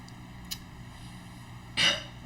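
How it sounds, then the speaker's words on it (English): A short, close burp erupts near the end after a faint earlier throat noise, brief and isolated against quiet room tone. "I have to burp."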